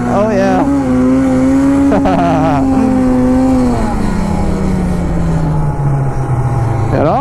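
A snowmobile drifting through a corner on a snowy track roars close and loud, its engine pitch rising and then sliding down as the sled slides around the bend, with brief vocal exclamations over the top.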